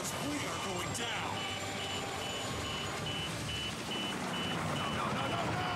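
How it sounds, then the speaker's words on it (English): Repeating electronic alarm beeps at an even pace, set against a dense, loud wash of action noise, engine rumble and game effects in the shooter Bulletstorm, with voices talking over it. "I'm surprised they have alarms on these."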